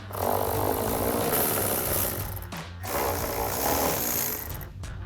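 Ratchet wrench fitted with an 8mm socket backing out screws on a Corsa closed-box cold air intake on a GMC Sierra 1500, steady rapid clicking in two bursts with a short pause between, close and fairly loud.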